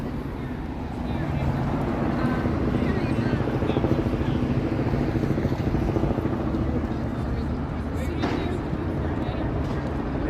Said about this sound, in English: Yeah, I can hear the choppers.